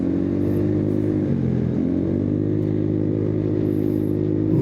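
A cheap motorcycle engine drones steadily while riding, a close continuous hum with slight dips and rises in pitch and no talking.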